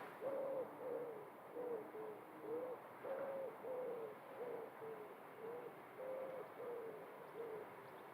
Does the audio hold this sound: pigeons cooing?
yes